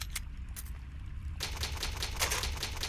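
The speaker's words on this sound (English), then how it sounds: "Old typewriter. You can save your progress. Use the ink ribbon? Yes, we will." An old typewriter in Resident Evil HD Remaster clatters with rapid mechanical key strikes, dense and close, continuing with a louder burst partway through.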